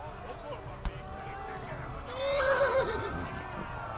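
A horse in the medieval game Kingdom Come: Deliverance gives a rising, drawn-out whinny in the second half, heard over quiet game ambience with a brief click near the start.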